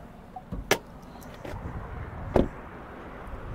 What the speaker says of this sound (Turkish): Gayet tok kapı sesleri var.